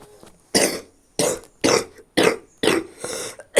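A person coughs six times in a row, each cough loud, close and harsh, with short pauses between them and no talk.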